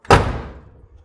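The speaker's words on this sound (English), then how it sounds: "Shut the door." A car door slams shut with a single loud, close thud that rings out briefly and fades, during work on a first car being brought back onto the road.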